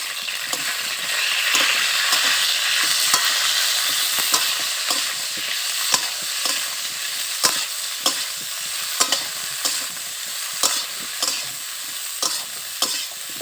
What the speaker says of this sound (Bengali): ফুলকপিগুলো একটু ভাজা হতে থাক